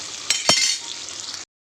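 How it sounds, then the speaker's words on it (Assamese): Potatoes frying in a pan for a chicken dish, a bright close sizzle broken by two quick clinks of a utensil on the pan before it stops abruptly. "আলুখিনি অকণমান টাইম মই ফ্ৰাই কৰি ল'ম এনেকৈ"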